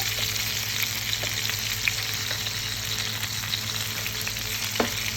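Chicken pieces frying in hot oil give a steady, dense sizzle that runs unbroken throughout, with a few faint clinks of a utensil stirring or lifting the pieces and no talking.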